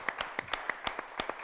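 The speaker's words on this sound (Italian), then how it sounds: "Un applauso a Bellissimo, Erdocca." Sparse individual hand claps at a parish carnival youth song festival, about a dozen sharp, fairly evenly spaced claps, moderately quiet, with no voices over them.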